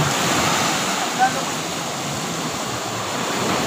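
Rough sea waves wash onto a black sand beach in windy, stormy weather, a steady broadband roar of surf close by with constant wind noise.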